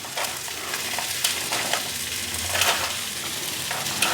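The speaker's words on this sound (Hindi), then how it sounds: "प्याज हमारा हो गया है, हल्का भून गया है।" Onions fry in a pan for a home-style onion and tomato curry, a steady close sizzle with occasional stirring scrapes and no talk.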